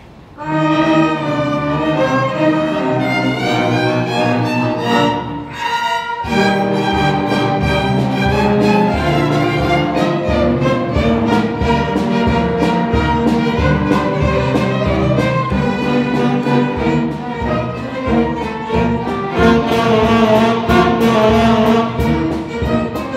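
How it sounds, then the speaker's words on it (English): A middle school string ensemble plays Stars and Stripes Forever at a spring concert, bright bowed strings in a brisk march rhythm, full and continuous with one brief pause near the start. "So with no further ado, Stars and Stripes Forever."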